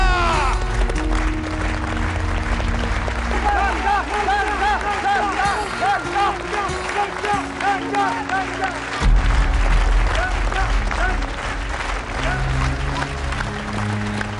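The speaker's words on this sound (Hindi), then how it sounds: "तालियां!" Applause breaks out from a village gathering after a kite-flying competition prize is announced, steady clapping throughout with background music and voices layered over it.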